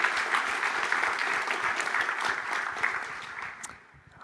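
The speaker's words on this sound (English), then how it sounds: "Give them a big round of applause" Conference crowd claps for speakers at a Bitcoin and Nostr session, steady moderate applause that tapers off and stops near the end.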